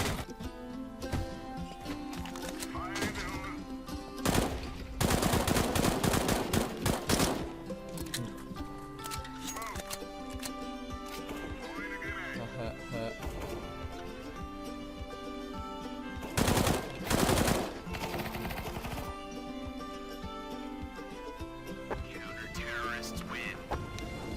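Automatic rifle fire from Counter-Strike: Global Offensive comes in loud rapid bursts, two longer volleys and scattered shorter shots, over steady game background sound with voices present.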